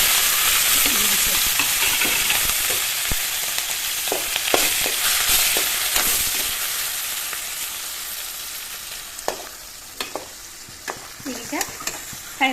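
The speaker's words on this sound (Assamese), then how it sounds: "তাৰপিছত মাছৰ মূৰকেইটা তেলতে ইয়াত দি দিছোঁ।" Fish heads frying in hot oil, a loud close crackling sizzle that slowly fades, broken by occasional clanks and scrapes of a utensil against the pan.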